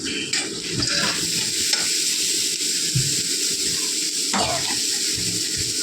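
Onions sautéing in a pan ahead of adding masoor dal, with a steady sizzle and scrapes of stirring against the pan, near and continuous.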